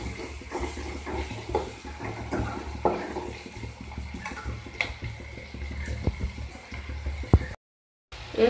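Chopped vegetables for a Hindi-style aloo tamatar sabzi cook in a pan, a steady low sizzle with scattered scraping and clinking of stirring, continuous for several seconds before a brief dropout.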